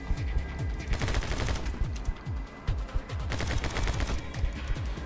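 Rapid pistol fire in a shooting game, dense strings of sharp close shots with brief pauses between bursts, steady and loud without talk.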